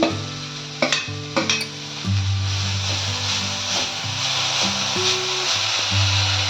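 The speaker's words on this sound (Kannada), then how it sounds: "ಈಗ ಸಬ್ಬಸಿಗೆ ಸೊಪ್ಪು ಹಾಕ್ತಾ ಇದ್ದೀನಿ" Dill leaves drop into a hot pan with cumin and are stir-fried. A couple of sharp knocks at the start give way to a steady close sizzle and scraping stirs, with background music underneath and no talking.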